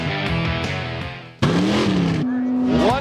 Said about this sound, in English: Why, the burnout contest, of course.